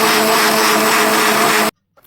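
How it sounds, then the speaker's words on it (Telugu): An electric mixer grinder whirs loudly and steadily as it blends an egg-based liquid fertilizer into a frothy emulsion, then cuts off abruptly, leaving near silence. "చాలా షేక్ చేసిన తర్వాత కొంచెం వాటర్ యాడ్ చేసుకొని మళ్ళీ మిక్సీ పట్టేసుకోండి"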